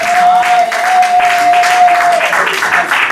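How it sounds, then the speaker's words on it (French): A congregation applauds at a religious wedding ceremony, a continuous dense clatter of many clapping hands, loud and close, with a sustained musical tone ringing beneath for most of the clapping. "Acclamons Jésus de Nazareth."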